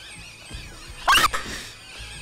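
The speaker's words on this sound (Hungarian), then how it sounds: "Mi volt ez a sikítás?" A scream in the video game Hello Neighbor 2 rises out of quiet background sound as one short, shrill burst, loud and close, followed by a smaller after-cry.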